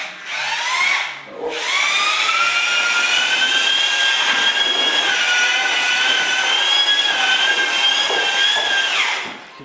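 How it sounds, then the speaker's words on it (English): A power drill with a mixing paddle whines loudly and steadily in drywall mud, briefly stopping and restarting near the beginning, then running continuously until it winds down at the end. "I like to break up the mud just a little bit before I add the water"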